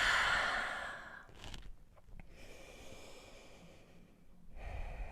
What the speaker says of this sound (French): Et expirez, relâchez par la bouche.